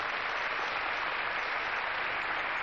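A studio audience on the game show Catchphrase gives a contestant a steady, even round of applause, a dense continuous patter of clapping with no talk over it.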